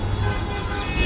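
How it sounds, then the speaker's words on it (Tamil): Dense Mumbai city traffic rumbles loudly and steadily, with car horns tooting through the constant road noise across the whole short stretch. "டிராஃபிக் செமையாக இருக்குது"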